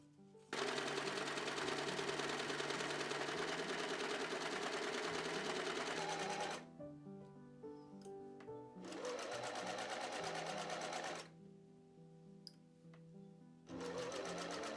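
A sewing machine stitches skirt pieces together for a gothic Regency-style dress, running in long steady whirring bursts of rapid stitching with short pauses between runs, close and clear.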